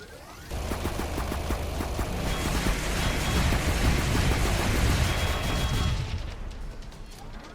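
Gunfire in the video game Fallout Equestria: Remains rattles out as dense, rapid bursts layered over a heavy rumble for several seconds, then cuts off sharply near the end.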